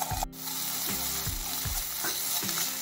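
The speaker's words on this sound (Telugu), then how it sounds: "ఒక స్పూను అల్లం వెల్లుల్లి పేస్ట్ వేస్తాం." Ginger garlic paste sizzling in a pan while masala upma is cooked, with steady frying crackle and a few spoon-scrape or stirring sounds near the mic.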